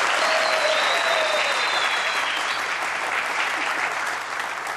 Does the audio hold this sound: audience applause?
yes